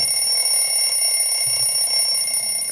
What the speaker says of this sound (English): Sorry, it's almost time, and there's the timer.